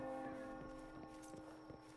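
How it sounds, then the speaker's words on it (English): A loud bell rings inside a video game, its sustained tones layered with repeated strikes over a steady background of game sound, with no talk. "that was a loud bell"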